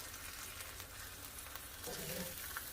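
Tacos filled with cheese and pork meat fry crispy in a pan, a steady close sizzle that grows a little louder near the end, with light stirring or scraping.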